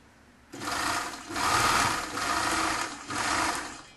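Domestic sewing machine stitching the back seam of a lined toque hat, running in three steady bursts with brief slowdowns between, close and loud with no talking.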